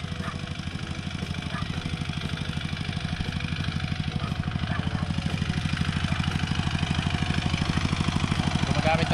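A motorcycle engine idles with a steady, even chug, close and continuous under a faint outdoor background, with no voices.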